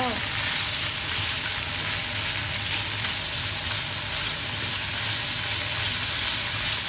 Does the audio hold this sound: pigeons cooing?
no